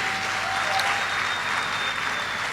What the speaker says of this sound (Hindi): एक बार जोरदार तालियां विनिंग टीम सिस्टम के लिए